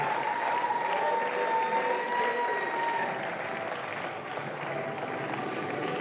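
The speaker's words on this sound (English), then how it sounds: "So round of applause, Piedro, Schweertman and Scott Gillanders." Sustained clapping from a large audience at a squash match in Rotterdam, steady and full for several seconds, thinning slightly toward the end.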